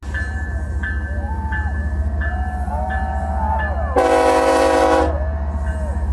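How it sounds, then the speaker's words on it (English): A train carrying Trump arrives in North Dakota, rumbling steadily with repeated short tones and gliding squeals before one loud, sustained horn blast, then the rolling noise continues. "Trump is arriving in his choo-choo train"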